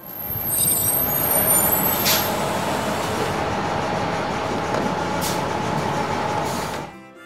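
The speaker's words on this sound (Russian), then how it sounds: "Школьный автобус." A school bus with air brakes, heard alone: a loud, steady engine rumble carries through, with a sharp hiss of released brake air near the start and another shortly before the sound cuts off.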